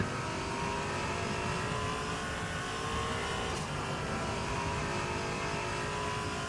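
LMP3 and GT4 race cars battle around the Hockenheimring, their engines droning in a continuous broadband roar at moderate distance that holds steady, with no clear pass-by peak.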